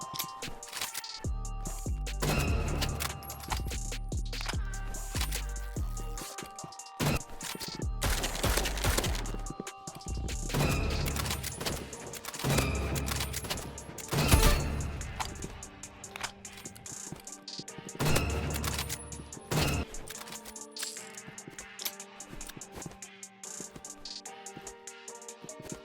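Revolver fire in the Roblox game Rivals plays as repeated sharp gunshots in bursts, mixed with other loud game effects and music-like tones through a busy, dense mix, with no voices.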